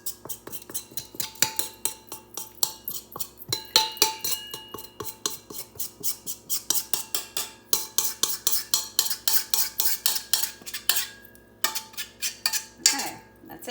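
A utensil scrapes challah dough out of a bowl in rapid, repeated clattering strokes, close and fairly loud, with brief pauses between bursts.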